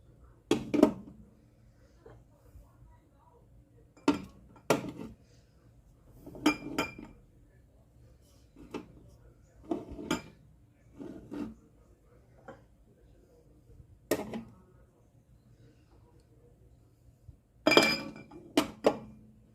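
Glass jars placed into a Ninja pressure cooker pot, sharp clinks and knocks in irregular bursts with quiet gaps between, close and bright.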